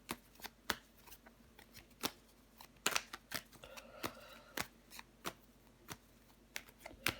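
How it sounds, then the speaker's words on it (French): Tarot cards handled and laid over one another on a surface, producing a string of crisp, close snaps, flicks and slaps at irregular intervals, with a brief riffle of shuffling in the middle and no speech. "Ok, on va recouvrir des cartes."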